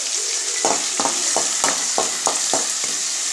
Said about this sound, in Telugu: టమాటో కట్ చేసుకొని పెట్టుకుని వాటిని వేసేసాను అన్నమాట.